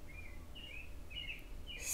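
Birds sing outdoors in a short run of faint, high chirping phrases, roughly four separate calls spaced about half a second apart over a low, steady background hum.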